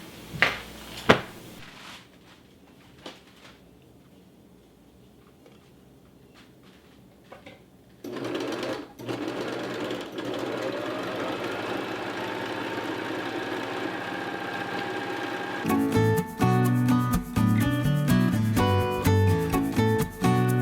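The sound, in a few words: serger sewing machine serging fabric edges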